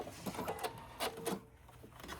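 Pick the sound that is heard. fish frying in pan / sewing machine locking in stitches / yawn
sewing machine locking in stitches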